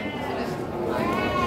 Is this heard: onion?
no